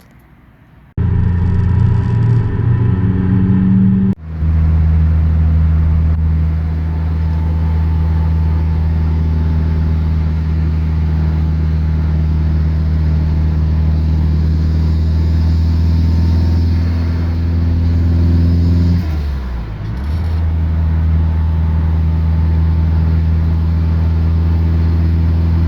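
An SR20DET-swapped, Haltech-powered Nissan 240SX drones steadily as it drives through town, with a deep continuous engine hum heard from inside the car, starting after a brief quiet moment and dipping once with a gear change.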